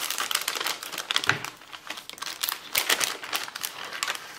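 A small packet is opened at close range, producing a busy run of crisp crinkling and rustling plastic with sharp crackles and brief pauses, with no talk.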